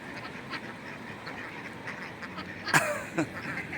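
Geese call out a few times over a busy outdoor murmur in a park in Saudi Arabia, with one loud honk and a second fainter one near the end.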